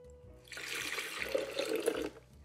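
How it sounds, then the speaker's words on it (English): Water pours into a blender onto rolled oats, a short gurgling splash that swells after a quiet start, holds for about a second and a half, then tapers off. "And then we have 2 cups of water."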